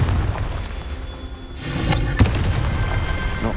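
A Confringo blasting spell explodes in Hogwarts Legacy, a loud broadband whoosh and boom with a sharp thud near the middle, set over continuous dense game noise.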